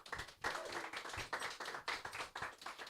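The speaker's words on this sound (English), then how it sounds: "Please, round of applause for her." An audience at a Cannes Lions panel on independent agencies gives a short, fairly quiet round of clapping for a panelist, uneven bursts of hand claps heard from a distance.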